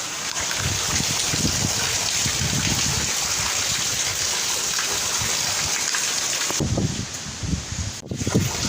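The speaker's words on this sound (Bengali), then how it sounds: "ঝড় ও বৃষ্টিও হচ্ছে দেখতেই পাচ্ছেন কীভাবে হচ্ছে" Heavy rain pours steadily during Cyclone Remal, with gusting wind buffeting the microphone, a continuous broadband roar that briefly dips near the end.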